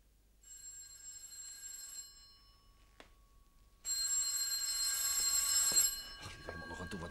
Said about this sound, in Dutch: En ik wilde net gaan douchen toen de telefoon ging.